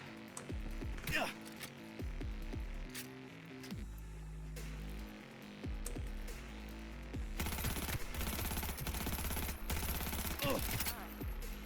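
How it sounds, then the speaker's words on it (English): Automatic gunfire emptying a magazine in the video game Cyberpunk 2077, a dense rapid rattle of shots in bursts over game music and effects, with a voice talking at times. "We're just gonna dump a mag into her."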